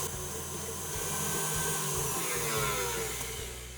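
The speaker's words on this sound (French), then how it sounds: "Lorsque la meringue est terminée, j'arrête le batteur" An electric mixer whisks meringue in a bowl, giving a loud, continuous motor whir with a rough airy roar that holds steady for the whole stretch, with no talking.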